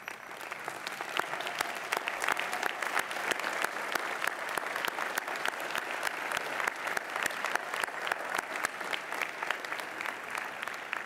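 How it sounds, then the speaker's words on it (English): A graduation-ceremony audience in a hall gives sustained, dense applause for friends and families, many hands clapping steadily for about eleven seconds with no voices on top. "offer a round of applause for their supporters out there"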